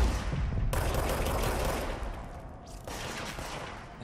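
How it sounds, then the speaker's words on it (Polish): Rapid gunfire rattles in the video game Control, dense bursts of shots layered over a rumbling background, loud and continuous with a brief pause before firing resumes. "staram się strzelać headshoty"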